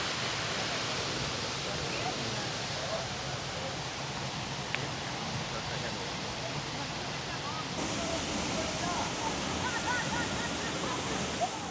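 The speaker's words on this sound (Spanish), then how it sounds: "Tremenda cascada escondida en la vegetación ahí." A waterfall hidden in vegetation on a scenic route near Manizales, Colombia, roars with a steady, dense rush of falling water that continues without a break.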